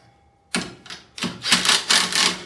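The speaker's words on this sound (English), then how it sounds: "Go ahead and tighten these down." Fasteners are tightened on a Predator 9000 watt generator: short bursts of rapid, crisp clicking, close and fairly quiet, start after half a second and come in several quick runs.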